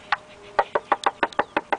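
Knuckles rap about ten times on the composite plastic valve cover of a 2012 Ford Fiesta engine bay, dull hollow close knocks in a fairly even rhythm.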